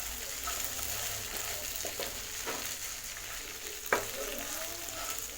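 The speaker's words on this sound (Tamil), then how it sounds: "இந்த மாதிரி ஓப்பனில் ஒரு நிமிஷம் நல்லா வதக்கிக்கோங்க." Pepper chicken stir-fried in an open pan gives off a steady, close sizzle, with occasional scrapes and one sharp clink of a utensil against the pan.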